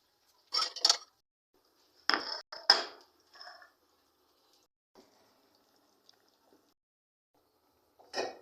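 A serving plate and cutlery clink and scrape while a portion of baked macaroni béchamel is cut and lifted out, several short close clatters in quick clusters followed by quiet gaps and a final knock.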